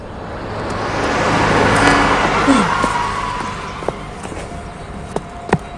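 A bus on a road swells past nearby in a loud, broad rush that peaks and fades over a few seconds, followed by a few short knocks and thuds.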